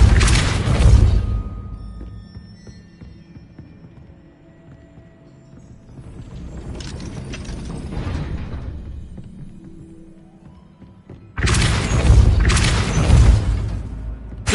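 The Depulso spell in Hogwarts Legacy gives loud booming bursts with whooshing force: a heavy hit at the start, a rumbling swell in the middle and another strong burst near the end, with mechanical movement sounds between them.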